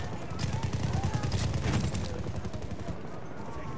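Dense gunfire in Battlefield 1, a rapid machine-gun fusillade with overlapping shots, loud and continuous for most of the stretch before thinning toward the end.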